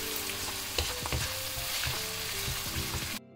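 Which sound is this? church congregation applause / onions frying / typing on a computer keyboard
onions frying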